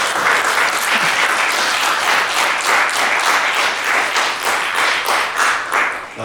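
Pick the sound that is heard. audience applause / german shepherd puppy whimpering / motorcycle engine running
audience applause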